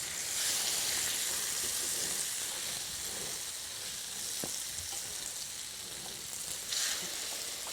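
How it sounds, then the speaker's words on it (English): Bread for French toast sizzles steadily in a hot frying pan, a continuous crackling hiss with small pops, close and without any voices. "You can hear it sizzling."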